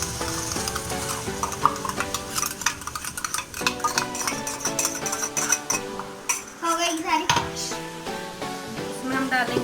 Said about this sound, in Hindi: अब हम इसको जो हमने तड़का लगाया था उसमें ऐड करेंगे।